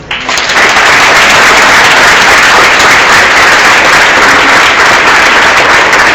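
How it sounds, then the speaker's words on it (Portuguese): Loud, dense applause from a church congregation at a baptism service, steady and continuous throughout without pause. "Aplausos!"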